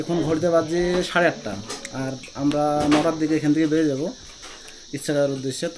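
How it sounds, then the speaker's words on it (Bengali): Crickets in a quiet hill forest around Mairungaon village near Kalimpong chirp steadily and shrilly in the background while a person talks over them. "এতটা নিরিবিলি, শুধু ঝিঝি পোকার ডাক।"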